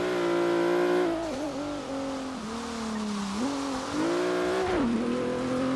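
A car in the racing game Forza Horizon 3, its engine droning loud and steady while the pitch rises and dips through gear changes and throttle shifts, with hints of tire squeal.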